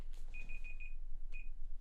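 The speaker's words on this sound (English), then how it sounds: "my Google timer on my computer" A Google timer alarm on a computer beeps in a quick run of four clear electronic tones, pauses, then sounds once more, moderately loud against a quiet room.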